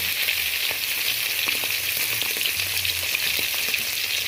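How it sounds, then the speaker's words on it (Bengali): Ghee sizzling hot in a kadai (wok) while red crab curry is being made, a dense, steady frying hiss with faint crackles throughout, close and loud with no talking. "এবার ঘিটা কড়াই তুলে দিয়েছি ভেজে নেওয়ার জন্য।"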